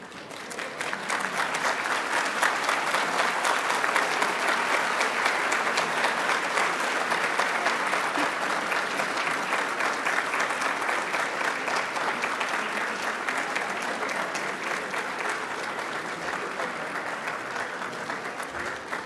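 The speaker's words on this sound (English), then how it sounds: "thank each and every one of your supporters with a big round of applause." A large graduation ceremony audience claps steadily for about twenty seconds, a dense, even wash of applause that swells early and tapers slightly toward the end.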